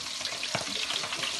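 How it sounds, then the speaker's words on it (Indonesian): Snails fry in hot oil with a dense, constant sizzle and bubbling crackle, close and moderately loud, with no talking. "Kita masukkan ke minyak yang sudah panas."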